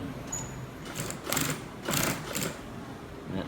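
A sewing machine stitches a U-shaped seam along the upper edge of a flapped back pocket on a pair of trousers. It runs in several short bursts of rapid whirring, close and clear, with a low background hum between the bursts.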